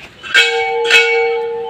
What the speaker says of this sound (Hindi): घंटी बजाते हैं